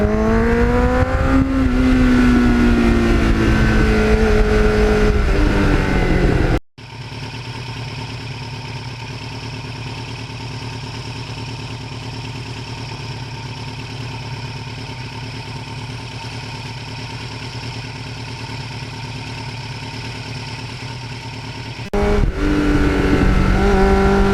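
A 1989 Kawasaki Ninja GPX750R with an aftermarket muffler rumbles steadily at idle with a deep, throaty exhaust, briefly revving at the start and end, loud and close.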